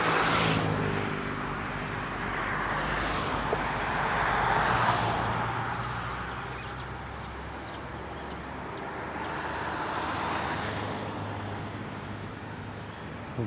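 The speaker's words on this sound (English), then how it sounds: "I think that's a construction truck coming here" A construction truck drives past on a street, a broad engine and tire rumble that swells in, peaks, eases, then builds again, heard from a moderate distance with no talking.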